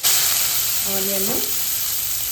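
Onion and capsicum sauté in butter and a little oil in a pan, giving a steady close-up sizzle with a brief stirring scrape midway and no talking.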